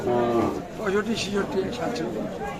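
Cows and calves low and moo amid a busy cattle market in Kaharol, with several people talking over the animal calls throughout.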